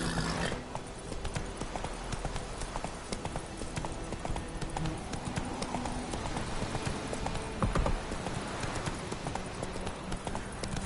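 The horse Roach gallops in The Witcher 3, hooves clip-clopping in a fast, continuous rhythm over game ambience, with a brief louder thump near the end.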